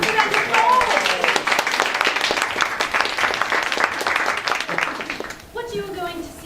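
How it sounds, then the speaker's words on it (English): An audience at a Regency-themed improv theatre show claps loudly and steadily for about five seconds, then the applause drops away and a voice begins speaking. "Give us a big applause."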